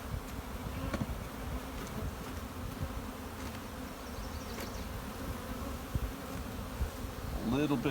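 Honey bees buzz in an open hive during a colony split, a dense continuous drone close by, with a few brief knocks and a rising burst near the end; no talk.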